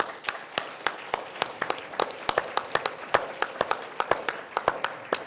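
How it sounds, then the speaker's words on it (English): Conference attendees applaud after a panel discussion on EU–Canadian relations: a modest group clapping in sharp, distinct, uneven claps that carry on steadily for several seconds in a hall, with no voices over it. "je pense qu'il convient de vous remercier chaleureusement par nos applaudissements"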